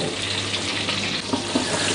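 Onions frying in about 100 grams of hot oil for Afghani Kabuli pulao, a dense steady sizzle and crackle close by with a few soft stirring scrapes.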